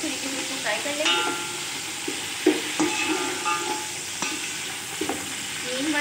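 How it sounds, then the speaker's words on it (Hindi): Curry leaves frying in hot oil for beef biryani make a steady sizzle, while a spoon stirs and scrapes against the pot with intermittent clinks up close. "अच्छे तरीके से इसको फ्राई कर लेंगे।"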